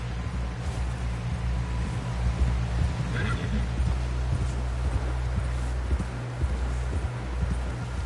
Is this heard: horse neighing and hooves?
yes